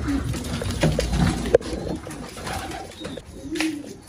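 Pigeons in a coop coo softly and repeatedly while feeding, with low throaty calls close by, some shuffling and one short sharp knock partway through.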